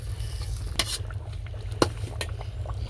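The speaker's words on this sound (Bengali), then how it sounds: "পোলাওর সাথে মশলাটা ভালো করে নেড়ে চেড়ে" Spices being stirred into half-cooked pulao rice and chicken in a pot for chicken biryani, with a steady low simmer or sizzle and a few sharp clinks of a spoon against the pot.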